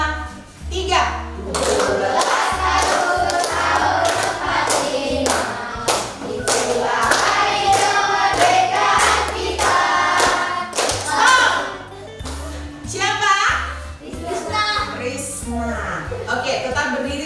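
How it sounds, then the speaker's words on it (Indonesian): Class of standing schoolchildren clapping hands together in a steady rhythmic beat, loud and close, mixed with children's voices and a teacher talking. "Sambil tepuk tangan ya."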